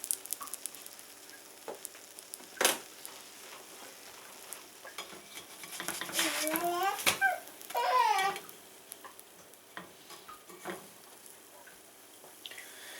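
Homemade pancake batter frying in a pan: a steady, soft sizzle runs throughout, with scattered light clicks, a brief sharp knock, and a short squeaky burst partway through.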